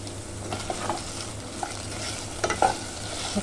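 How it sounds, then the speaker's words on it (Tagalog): Pork spare ribs stir-fried with aromatics in a pan, giving a steady low sizzle with soft scraping and clacks of stirring, a few sharper knocks near the end, and no voices. "Halo-haloin lang natin hanggang sa magisa at lumabas yung aroma ng ating mga sangkap guys."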